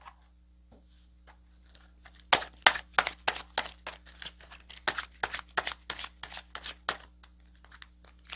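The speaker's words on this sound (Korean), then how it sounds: "역시나 카드 뽑아봐야겠죠" Tarot cards shuffled and drawn at a reading, a rapid close series of crisp riffling snaps and slaps starting after a quiet pause, then continuing in quick bursts.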